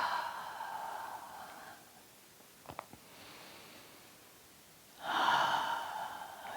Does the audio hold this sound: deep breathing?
yes